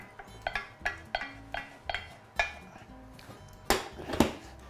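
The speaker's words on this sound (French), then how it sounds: "Notre ami la sauce qu'il faut mélanger." A spoon clacks and scrapes around a dish as sauce is stirred for pasta, about a dozen sharp, close knocks in an uneven rhythm, with no one talking.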